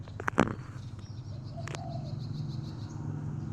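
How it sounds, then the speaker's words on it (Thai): A spotted dove calls with soft, low cooing notes against a faint outdoor background, with a couple of brief sharper sounds at the start. "เสียงเรียกเจ้าสอง"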